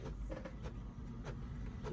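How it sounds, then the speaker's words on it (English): Printer running a print job onto 100-micron DTF film, a steady low mechanical hum with a few soft carriage clicks and swishes, fairly quiet and continuous with no voices. "It does sound like it's printing with no issues, like it didn't get stuck or anything like that."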